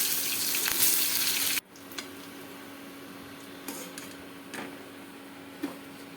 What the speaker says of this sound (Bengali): আজকে একটু চপ করে ভেজে নেবো